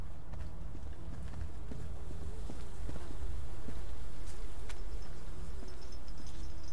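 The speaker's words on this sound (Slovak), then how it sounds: "To znelo jak kroky za mnou" Footsteps in the horror game Hallowseed: soft, steady thudding steps behind the player, moderately close, over a low ambient hum, with no talk.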